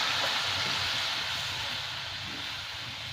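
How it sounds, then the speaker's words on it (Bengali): Hot water goes into a pan of frying spices and potatoes, giving a steady hissing, steaming rush close by that fades slightly over a few seconds. "এবার আমি গরম জলটা দিয়ে দেবো"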